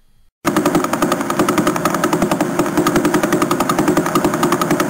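A faster pulsar star, in recording, comes in abruptly after a short silence as a loud, rapid, relentless rattle of pulses, dense like machine-gun fire or a jackhammer over a thick wash of noise.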